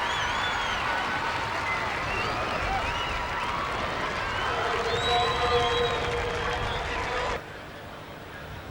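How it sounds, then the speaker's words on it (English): A stadium crowd at an athletics race cheers and roars in a sustained wave, whistles and shouts rising above the din, before the noise cuts down sharply near the end. "And the crowd just went berserk."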